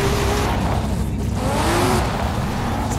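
Audi R8 racing in Forza Horizon 5, its engine droning loud and steady with a rising rev sweep, with other Audis and a wagon close by and no talk over it.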